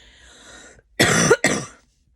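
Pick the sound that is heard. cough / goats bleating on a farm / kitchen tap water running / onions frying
cough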